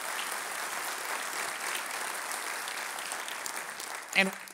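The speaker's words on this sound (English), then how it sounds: "Let's give them a big round of applause." Applause for the Long Beach City Council at a development update event, steady dense clapping from a crowd throughout, ending with a brief louder burst near the close.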